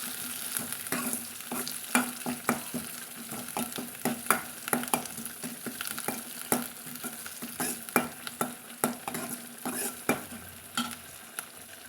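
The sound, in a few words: sautéing green chili and curry leaves in a pan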